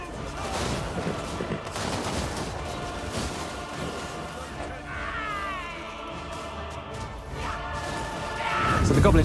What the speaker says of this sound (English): Goblin Shaman here has just cast a spell called the Curse of the Bad Moon.